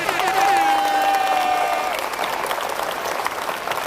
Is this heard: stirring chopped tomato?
no